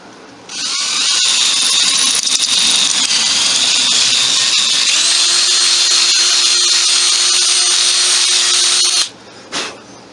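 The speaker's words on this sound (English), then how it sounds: "This drill motor really stinks." An electric drill motor runs steadily at a high-pitched whine for about eight seconds while drilling pin holes for replacement kitchen utensil handles, close and loud, then stops with a brief final blip.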